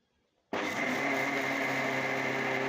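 A kitchen mixer grinder whirs loudly and steadily as it grinds thick dosa batter with ice water, starting abruptly after a brief silence and running continuously.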